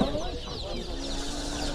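Chickens clucking at a busy livestock market, brief clucks close by over a steady crowd murmur, with people talking nearby.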